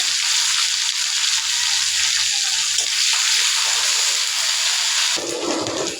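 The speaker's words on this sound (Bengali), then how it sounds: "রসুন আর মরিচটা ভাজা হয়ে গেছে" Garlic and green chillies fry in hot oil with a steady, loud hiss of sizzling that runs continuously and changes character slightly near the end.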